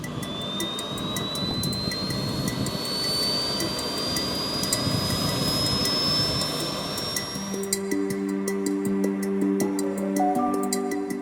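A jet engine starting up on the PTERA research aircraft, with a loud rising turbine whine over broadband roar that steadies, then settles into a steadier tonal hum with layered tones near the end.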